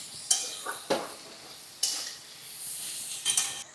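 Chopped green chilli with tomato and capsicum frying in a pan for egg chicken chowmein, a faint sizzle broken by several sharp spatula scrapes and clinks against the pan, close and without speech.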